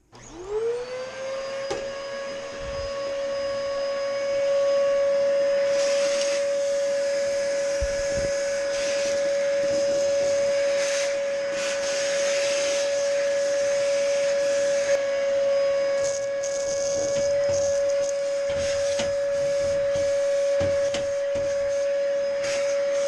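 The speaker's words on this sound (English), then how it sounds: "I need to get the vacuum and clean all that up first before I do anything else." A vacuum cleaner starts up and runs steadily with a loud, close whine and whooshing airflow, cleaning up debris during a clothes dryer repair, with occasional shifts in pitch as the nozzle moves.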